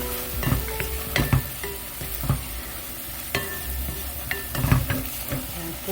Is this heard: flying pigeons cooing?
no